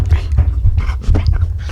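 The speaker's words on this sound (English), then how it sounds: "Dude, she is such a sloppy dog." A dog pants in quick, rhythmic breathy bursts close by, with a few soft whimpers mixed in.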